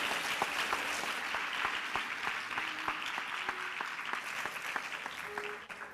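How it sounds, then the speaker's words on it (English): Sustained audience applause for a Bharatanatyam dancer at her arangetram stage debut, dense steady clapping from a large crowd that carries on evenly across the whole stretch and fades slightly at the very end. "could we have another round of applause for Tarunya?"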